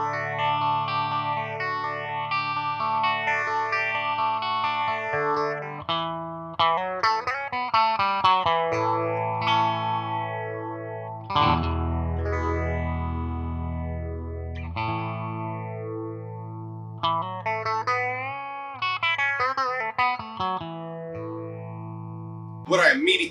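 A guitar played clean through a Warm Audio Mutation Phasor II set for a phase, with sweeping, swirling notch sweeps over chords and single-note phrases. Strummed passages alternate with brief gaps, close and moderately loud.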